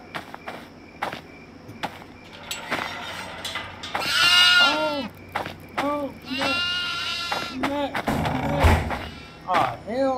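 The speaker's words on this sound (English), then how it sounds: "I guess they left the hay so we can feed the goats and whatnot." Goats in a farm area of the horror video game Devour, bleating several times in loud drawn-out wavering calls between footsteps and game noises, while a player talks now and then.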